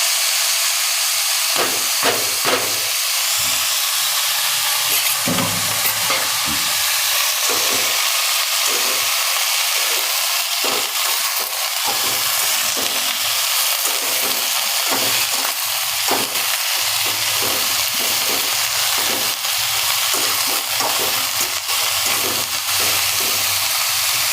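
Cabbage hits a hot pan already seasoned with garlic and asafoetida for a Gujarati sour cabbage sabzi, giving a steady close sizzle and hiss of frying with repeated scraping stirs throughout, no voices.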